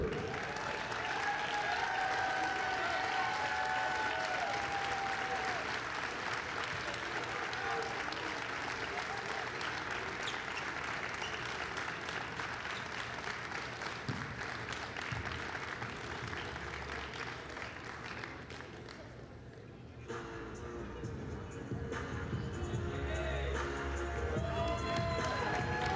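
Sustained crowd applause with some cheering fills a basketball arena after the women's SAC championship game, honoring the runner-up Anderson Trojans; clapping runs steadily, dips briefly, then swells again as the presentation continues.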